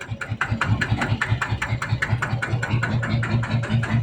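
A Thai Itaen farm vehicle engine runs steadily close by, a rhythmic chugging thump repeating about four times per second with a rough mechanical rattle above it, loud and continuous with no one talking.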